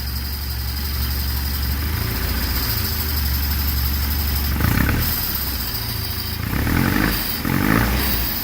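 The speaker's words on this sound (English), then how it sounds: "I just started it up, and the idle is very low." A 1974 Alfa Romeo engine idles too low at about 600 RPM, a low, steady rumble with a deep, even drone and a couple of brief surges in revs.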